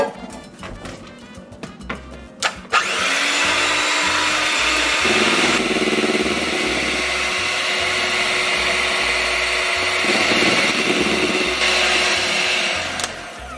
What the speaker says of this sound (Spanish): Voy a comenzar a batir las claras de huevo hasta que estén bien crecidas.